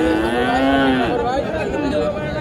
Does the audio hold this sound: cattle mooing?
yes